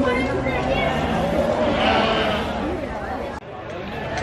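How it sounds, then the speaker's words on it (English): Sheep bleat loudly and repeatedly close by at an agricultural show, several overlapping calls forming a busy flock noise. "There's so many sheep."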